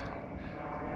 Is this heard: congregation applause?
no